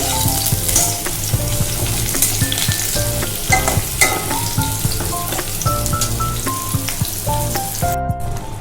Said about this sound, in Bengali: এবার একটু আঁচটাকে বাড়িয়ে একটু ভালো করে ভাজা ভাজা করে নেব